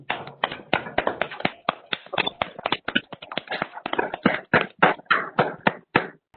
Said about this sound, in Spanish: Les pido por favor a todos un fuerte aplauso para la ponente.